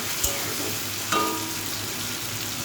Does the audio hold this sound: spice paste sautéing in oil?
yes